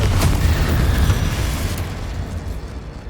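Fireball and blasting spells going off in Hogwarts Legacy, a dense, rumbling boom that rolls out loud at first and then slowly fades away.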